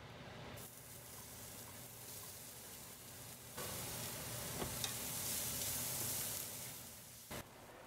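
Aromatics sizzling in coconut oil in a pan, a steady close crackle that swells louder midway and stays loud for several seconds with a few sharp pops, then briefly drops.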